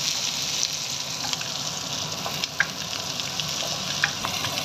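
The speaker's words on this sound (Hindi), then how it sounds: "आपने इसको इतना ज़्यादा फ्राई नहीं करना, हल्का लाइट सा फ्राई कर लेना है आपने इसको" Vegetables frying with garlic in a pan, giving a steady, close sizzle with small crackles and pops throughout.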